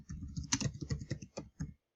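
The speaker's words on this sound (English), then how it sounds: "I'm going to type in Mickey Jackson" A computer keyboard clatters under steady typing, a quick run of close, light key clicks with a couple of brief pauses before stopping.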